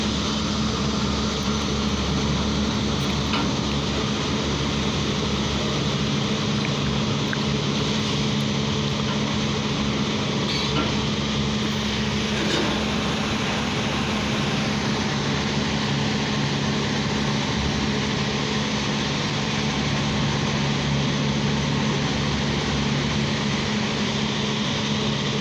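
A Mahindra 475 DI tractor engine idles steadily with a low, continuous rumble and mechanical drone throughout, heard at moderate distance while the tractor is unloaded, with no voices.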